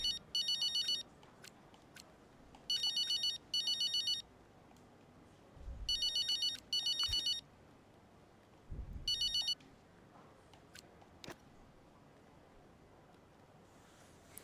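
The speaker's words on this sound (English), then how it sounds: "I hate the phone calls so much." In-game phone ringing in the F1 25 racing video game, a repeated electronic trill in short regular bursts over a low steady background hum, no talk.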